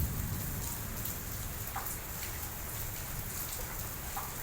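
Heavy rain pours steadily at a temple, a dense, even hiss of drops striking surfaces throughout with occasional louder splashes, and no voices.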